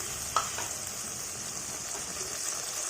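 Ginger, green chili and cashew paste fries in a pan as a little water goes in, giving a steady, fairly quiet sizzle with a brief splash near the start and no voices.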